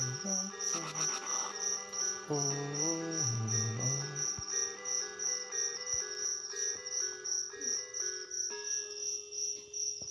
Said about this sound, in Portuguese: Ô, grilo.